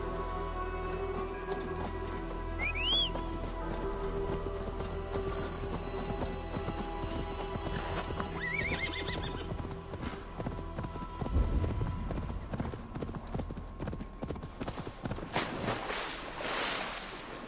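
Horse hooves clip-clop steadily in Assassin's Creed Valhalla, with a brief whinny early on and splashing water as the horse moves amid game ambience.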